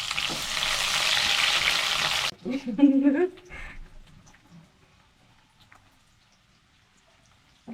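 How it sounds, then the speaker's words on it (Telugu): Chopped onion and dried red chillies frying in hot oil, with a loud dense sizzle for about two seconds that then drops sharply and fades into faint crackling and quiet. "అలాగే కట్ చేసిన ఆనియన్ కూడా ఇందులో వేసుకోవాలండి."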